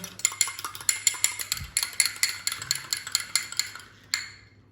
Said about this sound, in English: So I'll go ahead and mix that in.